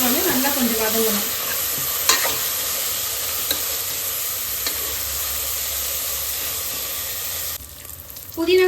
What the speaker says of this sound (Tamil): இந்த புதினா, பச்சை மிளகா, கொத்தமல்லி இது 3மே இப்போ வந்து நல்லா கொஞ்சம் வதங்கணும்.